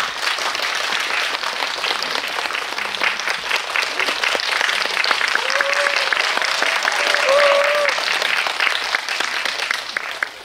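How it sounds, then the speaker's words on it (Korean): Theater audience giving big applause to welcome a film director and actor Jung Woo-sung at a screening talk, a long steady roar of clapping that swells midway, with a few faint cheers. "두 분의 게스트를 큰 박수로 환영해 주시기 바랍니다"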